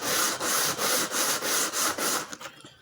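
Wood being sanded to flatten a violin bass bar, in about seven even back-and-forth rubbing strokes, close and fairly loud, before the motion breaks into a few lighter scrapes.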